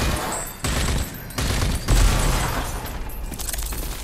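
Gunfire in the shooter game Rage 2 comes in loud, dense bursts, with rapid automatic fire broken by short pauses and heavier booming blasts between the volleys.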